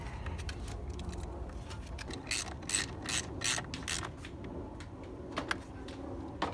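A wrench ratchets in short clicking bursts while car battery terminal clamps are tightened. The clicks are close, quiet and come in irregular runs without speech.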